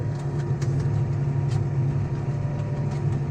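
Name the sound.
tractor engine running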